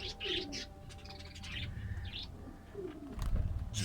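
Small birds chirp and twitter at a myna bird nest in steady, overlapping calls, with a low rumbling background and a few louder tweets near the end.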